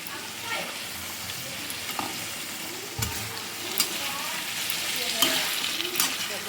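A vegetable curry fries in ghee in a pan while being stirred. A continuous close sizzle swells slightly toward the end, punctuated by a few sharp utensil knocks and scrapes.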